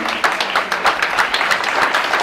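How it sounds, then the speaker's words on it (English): Steady, close applause from an audience at a closing ceremony for volunteers, many hands clapping in a dense, even patter throughout. "give them a really good round of applause"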